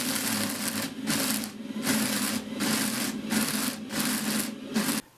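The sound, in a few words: homemade DIY brush sander running on wood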